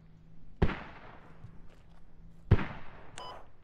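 Two mortar shells burst in the military shooter game Squad, each a sharp booming impact with a fading tail, spaced about two seconds apart at moderate distance.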